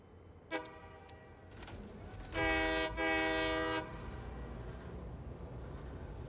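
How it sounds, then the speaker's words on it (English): A train in the video game Satisfactory sounds a short toot, then a long, loud, steady horn blast over a low rumble of the train running on the track. No one speaks. "Trains are fun."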